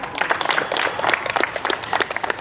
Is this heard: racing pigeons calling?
no